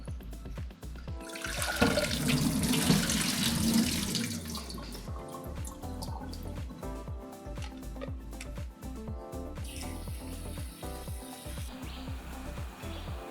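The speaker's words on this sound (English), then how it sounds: "you can wash your rice in the strainer in the pot and strain the water out this way" Rice is rinsed in a strainer set inside a pot under a running kitchen tap, with water splashing and rushing for a few seconds, then softer trickling and clinking as it drains.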